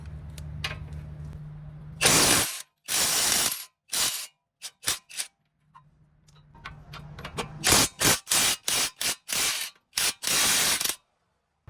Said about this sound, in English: Now for the strut, counter hold the bolt, take out the nut.